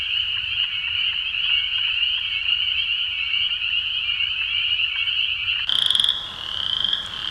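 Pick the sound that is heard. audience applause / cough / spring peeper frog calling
spring peeper frog calling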